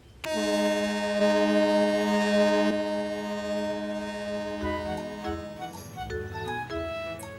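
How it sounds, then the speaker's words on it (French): A ferry horn gives a long, loud blast with a rich harmonic tone for a few seconds, followed by lower engine rumble and fainter tonal hoots. "il laissa même Caillou faire retentir la sirène"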